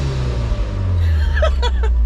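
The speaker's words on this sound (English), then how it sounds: "Let me try rev it again." A Mitsubishi Evo 8 engine fitted with a cheap eBay blow-off valve revs with a steady low rumble, followed by brief higher bursts near the end.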